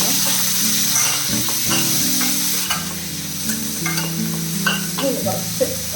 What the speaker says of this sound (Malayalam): ഇത് കുറച്ച് വഴണ്ടി വെച്ചിട്ട്,